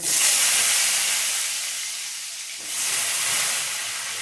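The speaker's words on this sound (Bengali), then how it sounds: "এবার এই তেলে আলুগুলো আমি ভেজে নেব" Potatoes fry in hot oil with a loud, broad hiss that eases off, then swells again partway through, with no talking.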